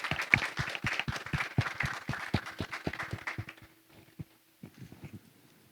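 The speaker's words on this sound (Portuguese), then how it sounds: "Eu vou pedir uma salva de palmas para..." Audience clapping at a panel session of an AI conference, a dense burst of hand claps that thins out and fades to a few scattered late claps before stopping.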